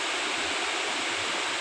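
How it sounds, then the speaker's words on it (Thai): Khlong Lan waterfall in a Thai national park with strong flowing water, a dense, steady rushing hiss filling the short moment without break or voices. "มาเที่ยวน้ำตกคลองลานวันว่างๆครับน้ำแรงน้ำเยอะคนก็เยอะ"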